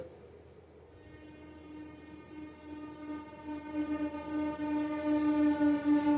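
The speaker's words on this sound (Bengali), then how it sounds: "ট্রেন যাচ্ছে" A train passes close by, its rumble growing steadily louder as a long, sustained horn blares over it, with no one talking.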